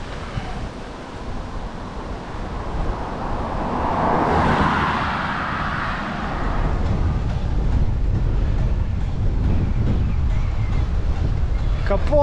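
Strong wind of about 16 metres per second buffets the microphone while cycling on Saaremaa island, a steady low roar that swells in the middle and stays loud and continuous.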